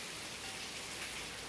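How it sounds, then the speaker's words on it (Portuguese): Light rain falling steadily, a soft continuous hiss of drops with no other sounds. "que benção de Deus essa chuvinha,"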